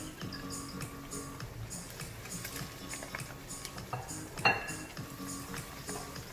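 Ofada stew with crayfish, prawns and dry burger is stirred in a pot with a metal spoon, making light, irregular clinks and scrapes against the metal over a quiet background, with one sharper knock near the end.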